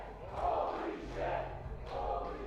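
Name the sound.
wrestling crowd cheering, from the video game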